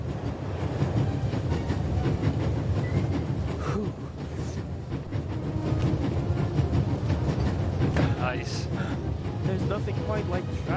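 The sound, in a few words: train traveling, rail clickety-clack in The Raven Remastered video game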